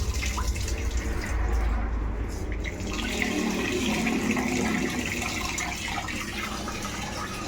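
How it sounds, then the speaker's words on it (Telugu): Tap water runs steadily over rice being washed in a home kitchen, a continuous splashing gush with some louder, heavier pouring early on, close and alone. "ఇక్కడ బియ్యం అయితే కడిగేస్తున్నాం."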